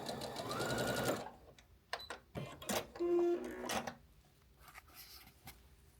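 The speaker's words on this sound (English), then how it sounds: "So we're just sewing them together." A home sewing machine runs in a rapid, steady whir for about a second, then sews in short stop-start bursts while stitching quilt blocks together for a charity quilt, close and fairly loud.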